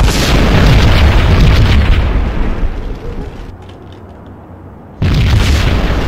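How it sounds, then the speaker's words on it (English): A bomb explodes inside a slum building in Max Payne: a loud, deep boom that rolls off into a fading rumble, then a second heavy blast cuts in abruptly. "Another bomb exploded inside the closest slum building."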